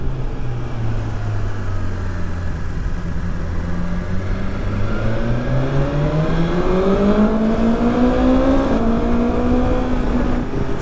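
A 2020 BMW S1000XR motorcycle engine winds up to around 8,000-9,000 rpm, its pitch climbing continuously over several seconds, loud and close with constant rushing wind noise.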